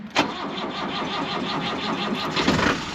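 A van's engine starts on a frozen winter night in the UK, with a cranking catch at the start and then a steady rhythmic idle that runs unbroken, close and loud.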